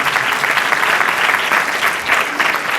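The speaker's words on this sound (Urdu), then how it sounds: "آئیے ذرا زور دار تالیاں۔" A church congregation claps loudly and energetically, a dense, even roar of applause filling the room throughout with no voices standing out.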